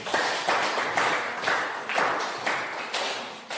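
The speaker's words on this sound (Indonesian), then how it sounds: "kepada kelompok 1 kita berikan tepuk tangan sekali lagi" A group of classmates applauds a student group after its discussion presentation in a classroom, clapping in steady bursts about twice a second, fairly close and without talk.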